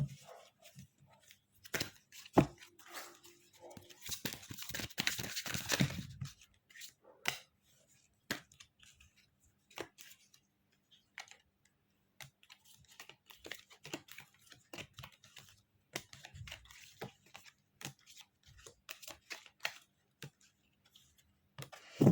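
Tarot cards are shuffled and drawn during a reading, giving bursts of riffling and irregular light clicks and slaps, close and fairly quiet, with a longer flurry of shuffling early on.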